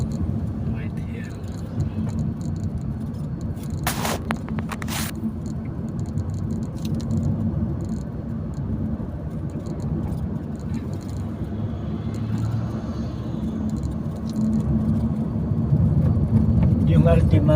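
A Nissan Altima drives along with a steady low road and engine rumble that swells toward the end, while people talk over it throughout.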